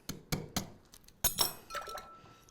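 Ice cubes clink and knock into a cocktail glass while an Old Fashioned is being made: several sharp glassy hits, a few spaced taps and then a louder cluster of clinks, close by with no talk.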